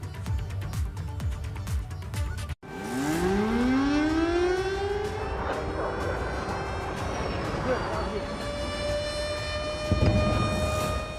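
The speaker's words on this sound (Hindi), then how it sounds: "फिर बज उठा आफत का सायरन।" A loud air-raid siren in Ukraine during Russian missile attacks wails with long rising and falling tones, continuous and prominent over a rumbling background.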